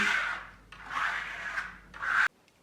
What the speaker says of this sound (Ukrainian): просто беремо на шпатель трошки вільвета і гарненько збираємо повністю по стінах це все